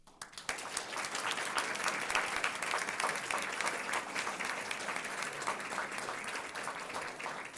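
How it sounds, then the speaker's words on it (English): Applause at a school district board meeting, as sponsors are honoured with a crowd's sustained, dense clapping that starts abruptly and continues steadily at moderate volume, heard a little distant. "can we also give a round of applause to our sponsors, Chief Petty Officer, retired Jason Gorsuch, and Captain Michael Camerumbus."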